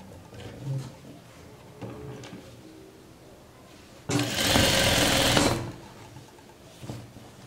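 A sewing machine stitches a jumpsuit in one loud, close burst of about a second and a half. Quieter handling noises and soft clicks come before and after.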